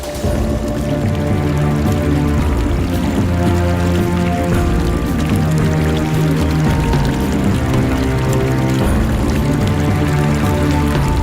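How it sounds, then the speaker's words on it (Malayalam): A flooded river in Wayanad, swollen after heavy monsoon rain, rushes in a loud, steady, unbroken roar of churning water that fills the whole span with no pauses and no voices. "പുഴകളിൽ അതിരുവിട്ട ഒഴുക്കാണ്"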